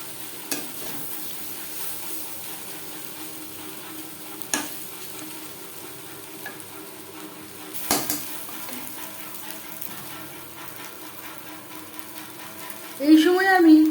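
Rice being stirred and fried for chicken fried rice gives a low, continuous sizzle broken by a few sharp scrapes of a spatula against the pan. A louder burst of frying comes at the end, with no speech.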